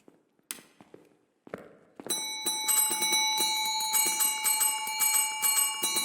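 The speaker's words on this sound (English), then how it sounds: "You gotta ring the bell for good luck." A bell in the Phasmophobia video game rings repeatedly for good luck, with sustained bright metallic tones that overlap and ring on. A few quiet thumps and footsteps come just before the ringing.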